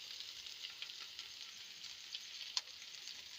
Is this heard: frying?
yes